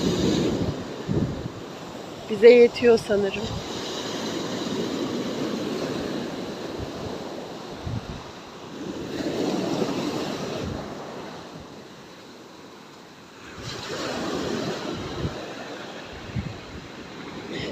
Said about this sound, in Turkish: Çünkü dalgaların sesi ve doğanın bize anlattıkları